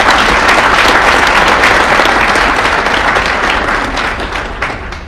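Loud, dense applause from a business meeting crowd, many people clapping together in a steady roar that tapers slightly toward the end of about five seconds.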